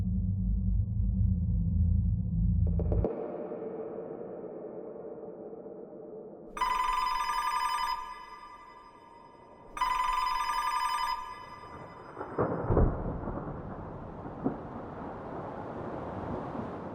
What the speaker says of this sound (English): authorities receive a phone call.